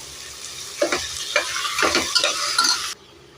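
Tomatoes and chicken go into a hot pan for chicken biryani, setting off a loud, close sizzle broken by several scraping stirs before the sound stops abruptly, with no one talking.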